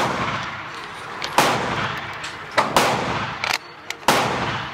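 Suppressed gunshots from a Foxtrot Mike FM-15 Gen 2 rifle with an 11.25-inch upper, fired outdoors: about five or six sharp, loud cracks in an irregular series over steady background noise, with no talking.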